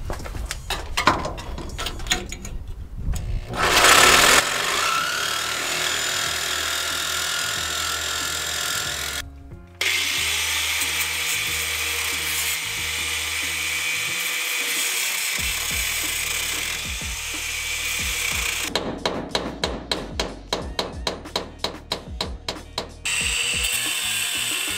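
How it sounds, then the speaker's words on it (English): A power tool cuts out rivets on a truck's rear leaf spring, with bursts of rapid rattling and grinding broken by brief pauses and a steady whirring stretch in the middle, close and loud. "All right, we got 2 of the rivets cut out."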